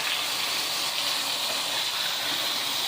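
Mutton liver and kidney fry on a hot tawa over high heat, giving a loud, continuous sizzling hiss that stays steady throughout.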